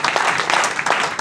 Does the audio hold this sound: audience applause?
yes